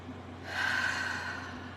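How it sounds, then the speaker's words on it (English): A single slow, deep belly breath drawn in during a calm guided breathing exercise, a soft airy swell that rises midway and holds steady against a faint low hum, with no talking. "So, breathing. Nice deep belly breaths."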